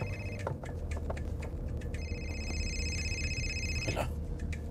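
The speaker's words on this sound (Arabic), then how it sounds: "تلفونك ده بدق ما ترد عليه؟" A mobile phone rings in a home setting with a repeating electronic ringtone that has a sustained tonal stretch, moderately loud over a steady low background hum.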